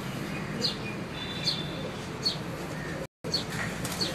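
Pigeons on a rooftop, a fancier's flock, with soft chirps and calls recurring every second or so over steady outdoor background noise, a brief dropout near the end.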